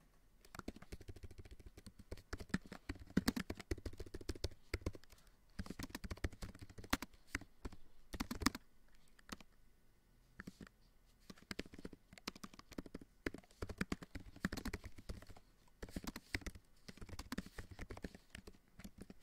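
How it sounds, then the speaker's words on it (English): Loud typing on a computer keyboard: rapid bursts of close, clacking keystrokes in uneven runs with brief pauses, no talk. "probably hear me typing really loud"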